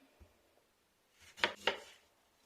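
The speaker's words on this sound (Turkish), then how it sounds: "Ve kısırımı süslemek için şöyle iki limon doğrayacağım." Two lemons are cut with a knife on a board, with two sharp, close chopping knocks in quick succession after a few faint taps, in a quiet room.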